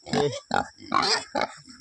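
A hungry pig grunts at close range, giving four or five short, rough grunts in quick succession as it asks for food.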